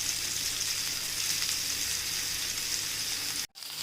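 Mushroom tikka pieces sizzle and fry steadily in a pan, a continuous close hiss of hot oil with no voices, cutting out briefly near the end.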